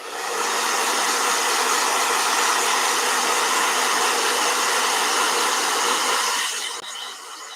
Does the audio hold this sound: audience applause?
no